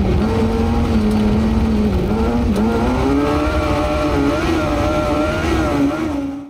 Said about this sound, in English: all of the audio I recorded of the carts was recorded directly on this using the internal mic